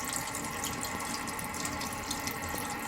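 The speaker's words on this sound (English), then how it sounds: "Okay, been rinsing it out." Tap water pours steadily into a sink as a dyed garment is rinsed out. The splashing is close and constant, with no voices.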